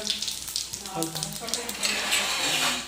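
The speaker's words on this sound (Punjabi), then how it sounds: "ਜੀਰਾ ਜਦੋਂ ਜੀਰਾ ਥੋੜਾ ਜਿਹਾ ਭੁੰਨ ਹੋ ਗਿਆ" Cumin seeds roasting in hot oil for a paneer and capsicum curry: a continuous close sizzle with light crackles and stirring scrapes that grows a little louder toward the end.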